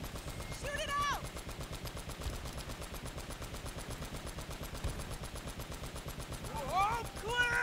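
Steady rapid gunfire in the video game Uncharted: Drake's Fortune, a continuous rattle of automatic shots at moderate level with a couple of brief whistling effects.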